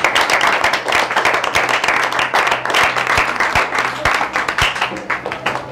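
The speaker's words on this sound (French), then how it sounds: "je pensais que vous allez vous applaudir pour ça." Audience at a school event applauding, loud dense clapping with a few sharp individual claps standing out, continuing steadily.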